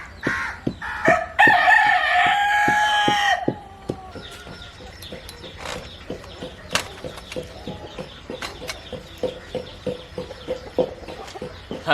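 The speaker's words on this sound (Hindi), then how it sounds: "मुर्गा भी जब आ गया माशाल्लाह" A rooster crows loudly and close by, then chickens keep up a steady run of sharp, irregular clucks at a village fruit garden, with no talking.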